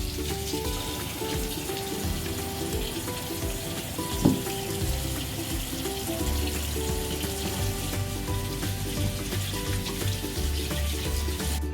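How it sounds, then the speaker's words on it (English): A tap runs steadily into a sink while hands are washed with soap in a home kitchen, a continuous close splashing hiss with a faint background hum and no talk. "we need to wash our hands with soap"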